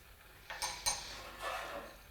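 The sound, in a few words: kitchen trivet and dishes being set down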